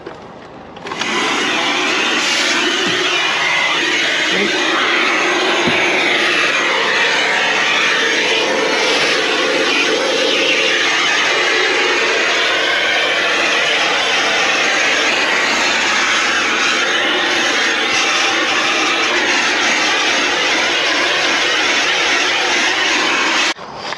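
An Amazon Basics hoover vacuuming a car interior, a loud, steady whining motor roar starting after a click and running continuously close up, with faint shifts in pitch as the nozzle moves.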